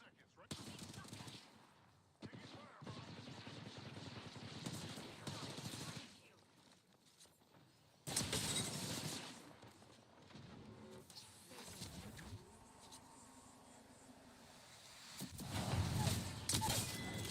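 Apex Legends weapon fire sounds as several quiet bursts of rapid gunfire separated by short gaps, with a louder burst midway and faint handling noises between shots.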